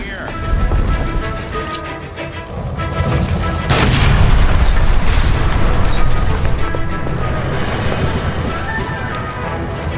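A gas line blasting apart in the crime video game L.A. Noire, a heavy booming explosion erupting into a sustained loud roar of fire and debris, with someone shouting over the start.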